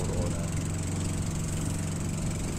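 The outboard motor of a small wooden bangka boat crossing open water toward an island drones steadily and loudly, an unbroken rumbling hum with no pauses.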